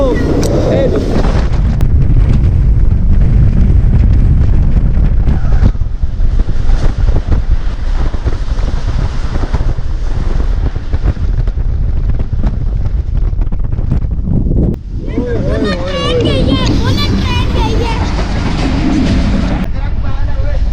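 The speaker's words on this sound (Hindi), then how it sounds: "तेज़ गाम आ रही है, तेज़ गाम का एक्शन दिखाते हैं आपको" Tezgam express train passing on a Pakistani railway, a loud sustained rumble with wind buffeting throughout, rising to a brighter screeching metallic rush near the end, heard close from on board.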